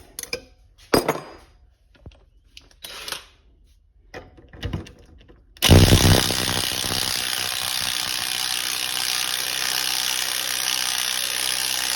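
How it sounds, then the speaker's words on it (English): A wrench turns a homemade wrist pin removal tool on a small block Chevy 350 piston, giving a few separate ratcheting clicks and metal clinks, then a loud, continuous mechanical grinding that fills the rest of the clip. "Take a wrench and get her started."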